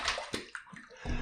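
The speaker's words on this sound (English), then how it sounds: "Let me just throw a little more water on my face." Water splashed onto a face during a wet shave, with a few quick splashes and sloshes close by, quiet and brief, no talking.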